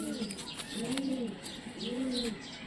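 A caged Giribaj hen pigeon coos in two clear, rising-and-falling phrases close up, with faint chirps and cage rustle behind and no talking.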